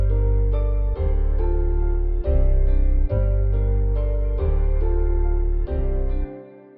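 Electronic track with a deep, heavy bass line added under synth and piano chords, pumping loudly in a steady repeating pattern and stopping abruptly near the end, with no talking.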